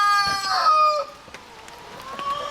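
Chickens in a yard near a bear-damaged enclosure, one bird crowing and others clucking close by in short overlapping calls.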